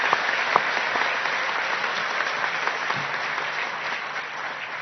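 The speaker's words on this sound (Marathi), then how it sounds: "आपण खूप जोरदार टाळ्या वाजवल्या पाहिजे" A large crowd at a political rally applauds in a steady, dense roar of clapping that holds for about five seconds, loud and continuous with no voices standing out.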